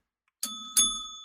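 A small bell is struck twice in close succession, each strike a bright metallic ding with clear ringing overtones that linger and slowly fade, close and alone without talk.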